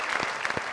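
Loud, close clapping from a studio audience on a comedy talk show, a dense burst of hand claps with a few sharper individual claps standing out.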